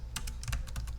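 A computer keyboard being typed on, a quick run of light key clicks in an uneven rhythm, close and fairly quiet over a low hum.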